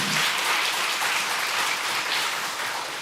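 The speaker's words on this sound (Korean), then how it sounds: "우리 격려 박수 한번 해주시길 바랍니다" A church congregation claps in encouragement for the worship team at a Sunday afternoon service, a steady, full round of applause lasting about three seconds with no talk over it.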